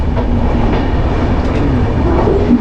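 Jan Shatabdi Express passenger train pulling out of Patna Junction, a loud continuous rumble with rolling wheel noise and faint rail clatter, heard close from on board with no voices.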